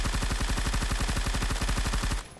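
Groza-4 rifle in the Roblox game Phantom Forces fired in one long full-auto burst, rapid even shots at a fast cyclic rate, loud and close, stopping abruptly near the end.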